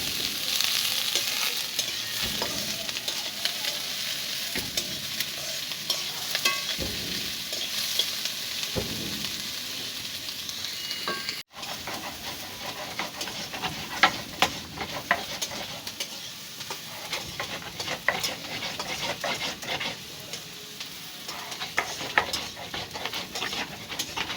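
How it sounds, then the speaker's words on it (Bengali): Onions and spices sizzle and crackle in a pan while a spatula stirs and scrapes repeatedly, the frying noise continuous and close. "সব মশলা দিয়ে ভালো করে কষিয়ে নিই"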